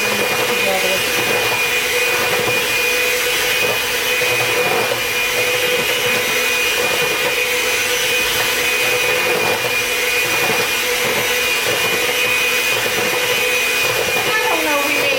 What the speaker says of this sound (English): it might be pretty boring watching somebody just sit there with a mixer